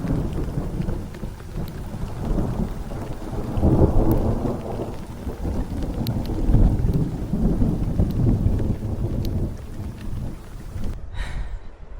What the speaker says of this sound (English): Oh, did you hear that thunder?